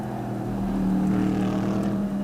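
Race car at Spa during night practice of a 12-hour endurance race, passing near Blanchimont toward the chicane: a steady, droning engine tone holding a low pitch throughout the clip, heard alone without voices.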